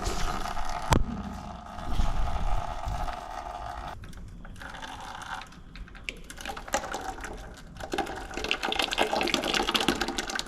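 Hydraulic fluid draining from a removed dump truck lift cylinder makes a steady trickling, splashing flow, with scattered clanks and knocks from repair work and no talk.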